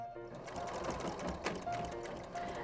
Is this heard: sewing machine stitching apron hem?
yes